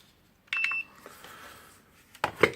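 Multimeter continuity beeps while testing the damaged cord of a Hitachi G23MRU 230 mm angle grinder: a short, faint electronic beep, then handling clicks and two sharper ticks under a quiet background.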